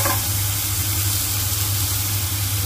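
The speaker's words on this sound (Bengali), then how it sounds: "আলুটাও দিয়ে দিচ্ছি এর মধ্যে, আলুর তেলটার মধ্যে ফুলকপিতে লেগে যায়।" Potato and cauliflower fry in hot oil with a loud, continuous close hiss over a low steady hum, unbroken and without speech.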